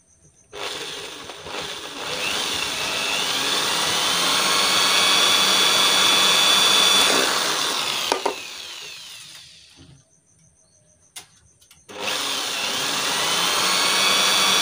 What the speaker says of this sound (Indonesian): Ini lubangnya dibor.